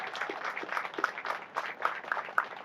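A crowd applauds at the rededication ceremony for the Bladensburg World War I Peace Cross Memorial, with steady, dense clapping that holds for the whole stretch and carries a few sharper individual claps near the listener.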